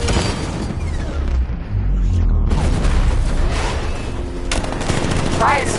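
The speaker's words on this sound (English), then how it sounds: "60mm cannon operational." Rapid 60mm cannon fire from a tank in the Batman: Arkham Knight video game, a dense loud barrage of booming shots with explosions, continuous over the whole stretch.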